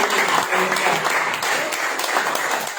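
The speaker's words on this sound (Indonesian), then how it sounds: "Beri tepukan yang meriah." An audience at a church seminar claps for a young person called forward, a short burst of dense, lively applause filling the room throughout.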